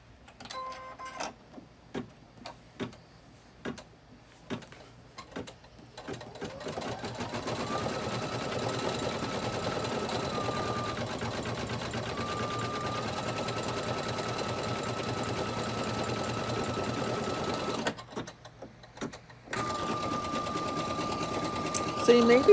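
Embroidery sewing machine stitching red lettering on a wall hanging, starting with spaced ticking clicks, then a long steady fast mechanical whir of needle strokes, pausing briefly before resuming.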